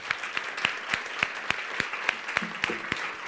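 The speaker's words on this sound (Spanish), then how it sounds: "Un millón de gracias y un aplauso." Rhythmic audience applause at a songwriting talk with a musician, evenly spaced unison claps at a brisk steady beat from a room of people, with a brief voice near the end.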